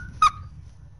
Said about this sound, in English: I heard a bird. A bit.